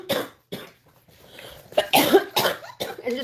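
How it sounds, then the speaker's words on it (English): Several separate coughs come close to the microphone in a short irregular burst, some pairs quick together, with brief quiet gaps between them. "I'm coughing."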